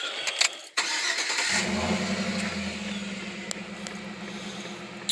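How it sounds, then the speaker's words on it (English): Truck engine starting after a throttle body coolant hose bypass: a brief starter crank, then the engine catches and settles into a steady close idle, with a few faint clicks and no talk. "So I'm just going to start it up right now and check for leaks."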